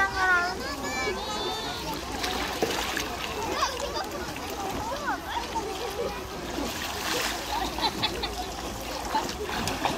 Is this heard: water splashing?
yes